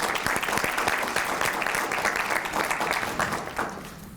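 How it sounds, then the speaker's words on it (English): Sustained applause from the audience at an alumni breakfast honoring distinguished graduates, a full, close wash of clapping that holds steady and eases off slightly near the end. "If you will give them a round of applause as well."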